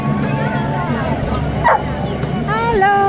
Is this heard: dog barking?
yes